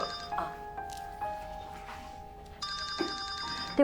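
A mobile phone rings with a bright electronic ringtone inside a hospital ward. The tone warbles in repeated bursts, loud and close, over a quiet room with faint background murmur.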